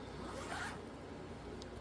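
A zipper on a fabric storage pouch for sewing embellishments drawn open in one short, close rasping pull against a quiet room.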